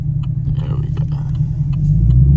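A Chevrolet Camaro SS's deep, rumbling engine idles and begins to rev up, low and throaty, growing louder toward the end with no talking.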